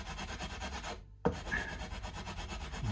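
Abrasive rubbing on wood to take away excess material where a guitar switch will sit, a steady raspy scraping with a brief pause and then a sharp restart, close and continuous.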